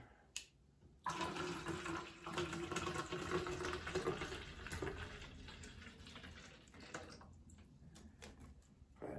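Hot water pours steadily into a container for several seconds, soft and close, with a brief splash at the start and a trickle near the end.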